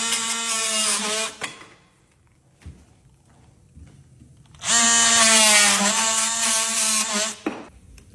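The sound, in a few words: DEWALT brushless oscillating multi-tool cutting sheetrock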